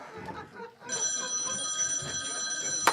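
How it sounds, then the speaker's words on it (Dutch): An old-fashioned telephone bell rings indoors during a stage play, a sustained metallic trill that starts after a brief moment of voices and continues steadily, with faint talk and stage noise beneath it. "Telefoon."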